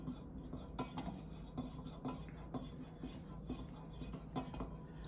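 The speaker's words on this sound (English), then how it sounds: "you have to keep stirring it in order for it to get really mixed" A spoon scrapes and stirs creamer into a cup of mushroom coffee, a continuous rasping, rubbing rhythm with repeated strokes, close and steady throughout with no talking.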